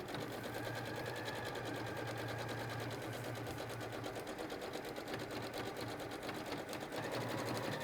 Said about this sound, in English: So I'm just zigzag stitching along that top edge there, just to make sure that that's nice and flat